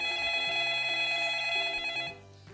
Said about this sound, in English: The phone rang a couple of times before he answered